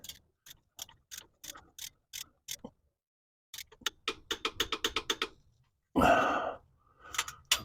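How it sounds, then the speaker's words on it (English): Torque wrench set to 27 foot-pounds tightening a transfer case plug on a 4Runner, giving a run of sharp ratcheting clicks in two bursts, then a louder rustling clatter near the end, up close with no talk. "Okay, we're going to get a torque wrench, 27 foot-pounds, same as the drain."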